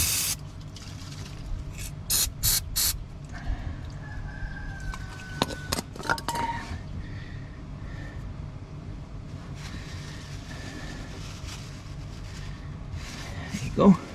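Spray of brake fluid cleaning a bolt and car part during servicing of a vehicle in Africa, with short bursts near the start among roosters crowing and chickens clucking in the background.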